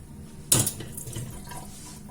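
Water pours into a salad bowl for an apéritif batter, starting with a sharp splash and settling into a steady trickling fill of short length, close by with no voices.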